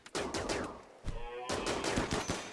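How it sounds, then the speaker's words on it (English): Rapid gunfire from raiders shooting at tribal colony animals such as alpacas in RimWorld, a dense burst of crackling shots that pauses briefly then resumes, loud and continuous without talk. "you're gonna shoot my animals?"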